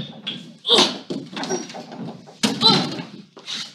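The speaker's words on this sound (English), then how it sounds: "I think we need to break down this door." Someone tries to force open a shut door with heavy shoulder slams and thuds. Two loud, booming impacts stand out among lighter knocks and bumps, with muffled voice sounds nearby.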